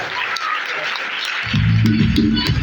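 An audience at a motivational seminar claps loudly and continuously, a dense, even burst of applause that is later joined by low music or a voice.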